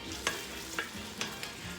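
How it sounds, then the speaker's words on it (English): Curry chicken sizzles in a hot pan, a soft steady frying hiss with a few light stirring scrapes, quiet and close with no talk. "You're starting to hear it sizzle."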